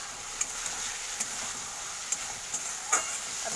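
Taro and silver carp with salt and turmeric fry in a pan, a steady close sizzle running throughout with a few sharp clicks of a spatula stirring and scraping.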